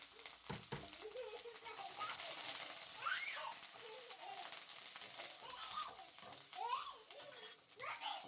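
Oil crackles and sizzles steadily in a pan as leaves hit it, with bursts of spitting and a voice speaking intermittently over the frying.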